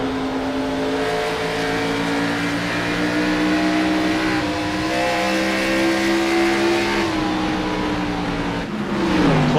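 Race car engines in an Xfinity Series stock car race at Iowa Speedway in a racing video game, a loud continuous tonal drone with steady harmonic whine that shifts pitch as cars rev and pass, no talking.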